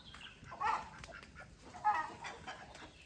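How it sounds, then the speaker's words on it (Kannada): Fighter chickens kept at home give two short clucking bursts about a second apart, fairly faint and close, over a quiet background. "ಇದಾವೆ ಫೈಟರ್ ಕೋಳಿ ಇರೋದು"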